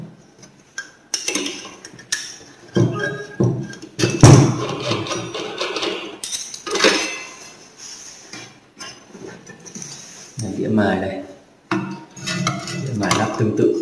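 Metal clinks, taps and dull thuds come in scattered bursts as a grinding disc is fitted onto a multi-purpose gemstone cutting and grinding machine, close up, with quiet handling noise between them.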